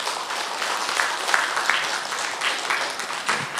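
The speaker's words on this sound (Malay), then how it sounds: "Boleh kita beri tepukan tak pada Datuk Omar?" An audience at a public service briefing breaks into sustained applause, a loud, even roar of many clapping hands filling the room without any speech.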